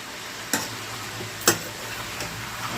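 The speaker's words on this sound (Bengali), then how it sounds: "আলুর সাথে মাংসটা একটু ভালো করে নাড়িয়ে নেবেন" Chicken and potatoes sizzle in a kadai with a couple of sharp scraping stirs, steady frying hiss throughout, close and alone without talk.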